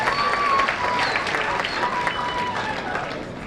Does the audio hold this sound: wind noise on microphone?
no